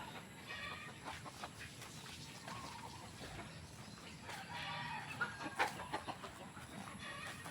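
Chickens cluck and chatter softly in the background, a faint farmyard scene with scattered calls and a rooster-like crow among them.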